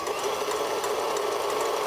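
An electric mixer whisks egg whites for a sugar-free meringue, giving a steady, loud, continuous high-pitched whir that holds unbroken with no talk.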